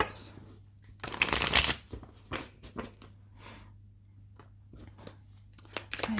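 A deck of cards is riffled in a loud burst, then cut and tapped with a string of crisp, quick flicks and slaps, close up with no talk.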